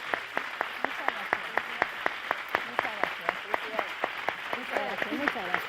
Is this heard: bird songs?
no